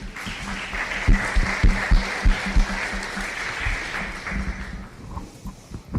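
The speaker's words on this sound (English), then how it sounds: "You can take a moment to applaud if you feel like it" Audience applause at a 2018 Cloverdale all-candidates mayoral debate, a steady wash of many hands clapping in a hall with a few sharper claps standing out, tapering off near the end.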